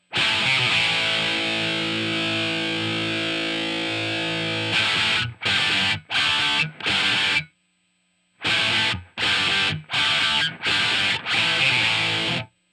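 A distorted electric guitar rings out through an amp in a room with reverb, playing a riff, chopping into short, punchy chords with brief silent gaps between them.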